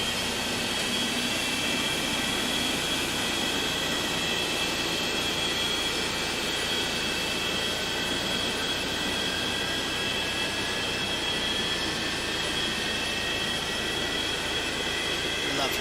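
Boeing 737-200 jet engine spooling up in the FlyJSim flight simulator, a steady, dense roar with a high whine running unbroken and evenly loud throughout.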